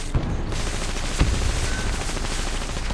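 Machine gun fire in the Reverse 1999 video game, a dense continuous rattle of rapid shots with a couple of sharper bursts, loud and close.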